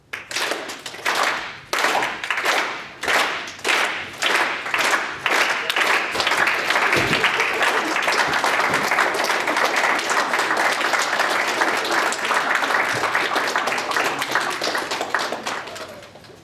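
A slow clap at a senate meeting: a few people start with evenly spaced, deliberate claps that quicken and swell into sustained applause from the room, then fade.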